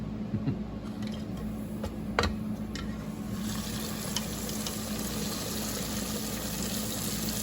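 Oyster mushroom pieces fry in a pan of hot oil with a steady bubbling sizzle throughout, broken by a few brief clinks and scrapes near the start.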